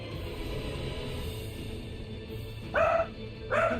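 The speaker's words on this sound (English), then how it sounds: "Bill, you got a dog?" Two short, sharp dog barks, close and fairly loud, stand out over a steady bed of game ambience and background hum during an Elden Ring Nightreign session.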